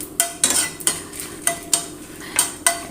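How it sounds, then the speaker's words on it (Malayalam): Dried red chillies sautéed in hot coconut oil in a pan, a soft sizzle under repeated rhythmic spoon scrapes and metallic taps against the pan, roughly twice per second, close by and without talk. "വെളിച്ചെണ്ണ ചൂടായതിന് ശേഷം നമ്മൾ ആ വറ്റൽമുളക് ഒന്ന് ആദ്യം ഒന്ന് വഴറ്റിയെടുക്കാം"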